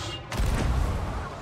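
A big cannon fires in a video game, a sudden loud broadband boom that rolls into a sustained rumbling blast lasting about a second.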